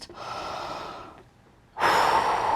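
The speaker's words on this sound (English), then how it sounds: "Take a deep breath first." A person breathes deeply, drawing a long, audible inhale close to the microphone, then falls briefly quiet before a strong, breathy exhale rushes out.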